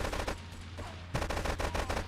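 Rapid automatic gunfire from a firefight in GTA III Definitive Edition comes in two quick bursts separated by a short lull, sharp and moderately loud.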